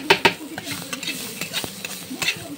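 Onion and chilli fry lightly in a pan for chicken pasta, a quiet sizzle broken by scraping stirs and small clicks of the utensil, close by and low in level.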